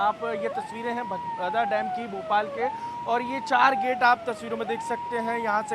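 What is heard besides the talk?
warning siren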